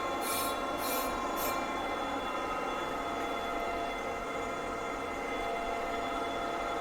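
A manual metal lathe turning large trunnion wheels is started and runs at steady speed, producing a continuous loud mechanical hum with tonal whine, plus a few brief high hissing bursts at the start.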